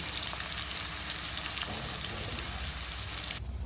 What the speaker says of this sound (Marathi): आता आपण बटर फोडणीसाठी घातलेलं आहे आपण याच्यात पहिल्यांदा कांदा टाकत आहोत